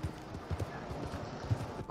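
Horse hooves clip-clop at a steady walking pace in Red Dead Redemption 2, close and fairly soft, with a few heavier thuds.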